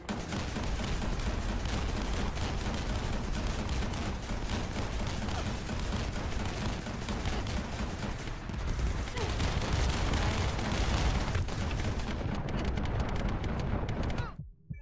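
Enemy gunfire barrage in the shooter game The First Descendant, a dense, loud, continuous fusillade of shots and blasts running nearly fifteen seconds before cutting off abruptly, with a voice faintly under it.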